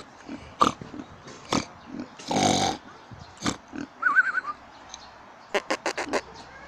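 Piglets grunt close to the microphone in short, separate bursts, with a longer snuffling rush in the middle and a quick run of grunts near the end.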